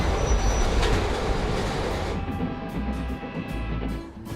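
A Pullman sleeper train rolls along the rails, loud rumbling and wheel noise steady at first, then easing into a rhythmic clatter with faint squeals as it continues nearby.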